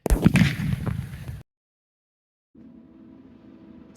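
A half-pound whistle rocket's mortar shell bursts with a loud, sharp crackling blast that fades after about a second and a half, followed by silence and then a low, distant rumbling background.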